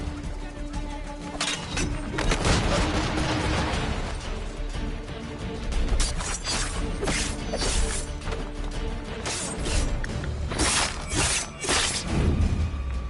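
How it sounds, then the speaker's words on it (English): Cannons firing in Assassin's Creed 3, a loud, dense run of booming blasts and crashing impacts over about thirteen seconds, with faint voices mixed in. "the cannon firing is kind of good"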